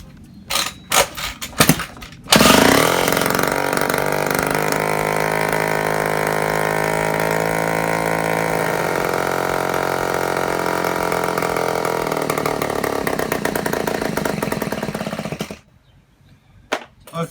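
A scooter engine fitted with a newly installed Mototec carburetor clatters and is kicked over with a few sharp bangs, then runs loudly and steadily at a rough idle for about thirteen seconds before cutting out.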